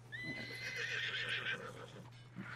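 A horse neighs in Red Dead Redemption 2, a loud, drawn-out whinny with a shaky pitch that fades near the end, followed by a brief soft snort over a steady low hum.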